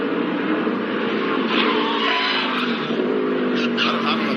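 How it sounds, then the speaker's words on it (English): A stock race car locks up its rear brakes and skids at the 2021 Dawn 150, a continuous loud tire scrub mixed with engine roar from the field. "when he hit the brakes, it looked like it locked up the rear brakes"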